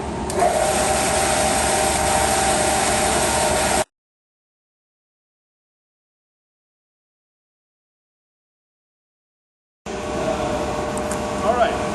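A belt sander machine in a workshop runs with a loud, steady broadband roar, cutting out abruptly partway through and then starting up again near the end.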